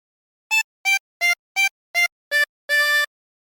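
Squid Game theme phrase played on a 20-hole tremolo harmonica: six short, evenly spaced reedy notes followed by one longer held note, clear and alone with no talk.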